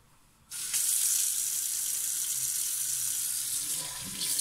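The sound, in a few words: warm tap water running into a sink to rinse a drain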